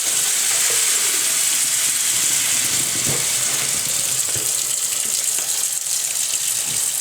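Tap water gushes onto a hot frying pan set in a kitchen sink after heating brake pads, a steady hiss and sizzle of water on hot metal throughout, close and loud with no talk.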